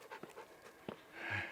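A dog left out of breath after chasing goats pants in short, quick, faint puffs, with a low rumble of background noise in the last moments.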